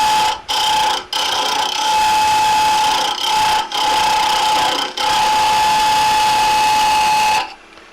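Ash being turned on a wood lathe, a tenon cut down to size, gives a steady high tonal whine of the spinning work broken by several short gaps where the tool lifts off, then it stops near the end; no talking.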